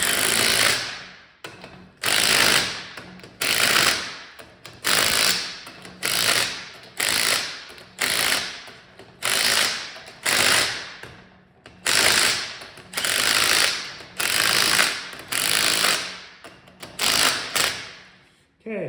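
A ratchet tightens the ring gear bolts on a 14-bolt differential during a regear, giving loud close clicking bursts in about a dozen regular strokes with short pauses between them.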